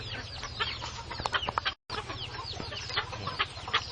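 A bantam hen clucks in soft, repeated bursts, with faint peeping ducklings around her, close and continuous except for a brief drop to silence.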